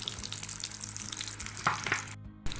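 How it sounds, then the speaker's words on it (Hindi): Potato pinwheel samosas shallow frying in a pan make a close, continuous sizzle with a few brief clinks and spikes, and the sound cuts out sharply near the end. "ये हमने डीप फ्राई नहीं करने, ये हमने शैलो फ्राई करने हैं।"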